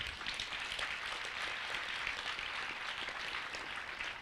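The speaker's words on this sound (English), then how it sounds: "Please give a big round of applause." An audience claps in a dense, continuous round of applause at a live spiritual lecture event, steady and fairly loud throughout with no speech.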